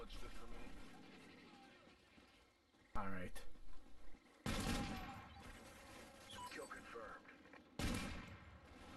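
Video game gunfire from Call of Duty's Onslaught DLC in a Team Deathmatch round, with loud bursts of automatic fire and distant shots, while players talk under and between the shooting.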